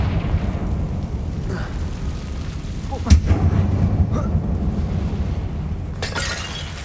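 A Confringo blasting spell detonating inside a closed mine in Hogwarts Legacy: one sharp burst over a dense, steady game rumble.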